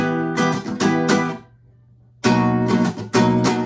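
A guitar strums a seventh chord in short rhythmic bursts, then pauses briefly before strumming the chord again, bright and close.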